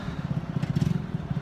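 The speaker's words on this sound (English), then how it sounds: "What are you doing, revving the motor?" A motor idles with a steady low pulsing throb, its chugging beat rising slightly in the middle before settling, fairly close and moderately loud with no voices.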